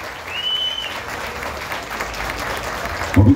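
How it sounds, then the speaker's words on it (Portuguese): A crowd claps steadily for a few seconds at a tribute ceremony, broad and sustained, with an announcer's voice faintly over it and a brief thump at the end. "Aplausos à nossa homenageada, por tudo presente,"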